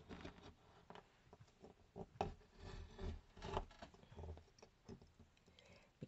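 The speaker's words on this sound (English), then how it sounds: "you take a utility knife, and you just score between the window pane and the wood trim." A utility knife scores along the painted joint between a window pane and its wood trim, making faint, close scraping and rubbing strokes with a few sharper scratches.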